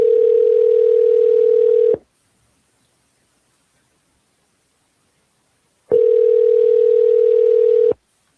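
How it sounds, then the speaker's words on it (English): Telephone network tone signalling an invalid or busy number on a call to a home seller: two loud, steady single-pitch beeps about two seconds long, separated by roughly four seconds of silence, with no voices. "The number you dialed is invalid or busy."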